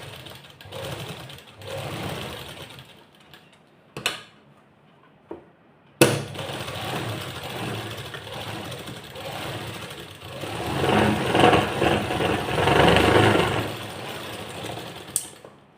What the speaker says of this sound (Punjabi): ਹੁਣ ਸਲਾਈ ਆਪਾਂ ਜਿਹੜੀ ਇਹਦੇ ਮੂਹਰਲੀ ਸਾਈਡ ਤੇ ਆਪਾਂ ਡਬਲ ਸਲਾਈ ਲਾ ਦੇਣੀ ਆ